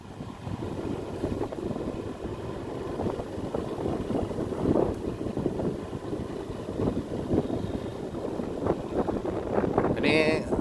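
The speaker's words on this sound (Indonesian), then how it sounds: "Anginnya lumayan kenceng" Strong wind sweeps across open rice fields, buffeting the microphone in a continuous, rough roar that stays loud throughout with no distinct breaks.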